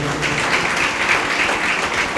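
An audience clapping loudly, a dense steady wash of many hands applauding together throughout, fairly close and even in level.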